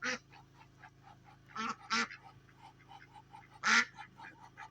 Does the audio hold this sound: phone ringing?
no